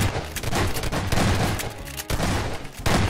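Rapid, loud shotgun blasts from the Half-Life 2 shotgun in Garry's Mod, fired in a dense burst over about three seconds with barely a pause between shots.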